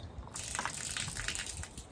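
Water bursts from a DIY shower mounted on a vehicle roof rack in a sudden loud, close gush that keeps splashing steadily for under two seconds.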